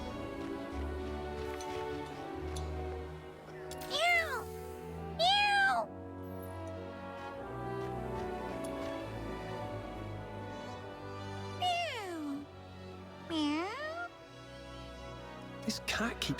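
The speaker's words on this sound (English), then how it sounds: "О, котик." A cat meows repeatedly in the Duet Night Abyss video game, several drawn-out mews arriving in two pairs over a soft ambient music backdrop.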